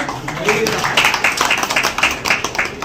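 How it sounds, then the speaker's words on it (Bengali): An audience at a prize distribution for farmers claps in a steady patter of many hands, loud and close, with a voice talking over part of it. "সবাই মিলে হাততালি দেবেন"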